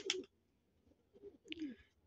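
A club pigeon cooing close by, two or three short soft coos separated by brief pauses, faint and with no other sounds around.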